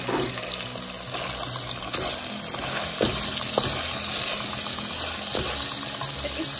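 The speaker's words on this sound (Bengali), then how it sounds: "তো প্রথমে আমি কষানো মাংসতে পেঁয়াজের কলি দিয়ে দিচ্ছি।" Spring onion stalks hit braised meat in a hot pan, giving a steady, close sizzle and crackle with a few sharper spits and clinks, with no talking.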